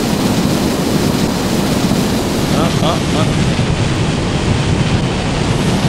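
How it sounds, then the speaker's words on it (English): Rocket engines firing together in Kerbal Space Program, including nuclear rocket engines: a loud, steady, unbroken roar that fills the whole stretch without letting up. "I've just engaged all the engines, including the nuclear rocket engines"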